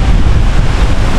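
Loud, constant wind roars and buffets the microphone at a cold family campsite, a dense low rushing noise throughout with no voices.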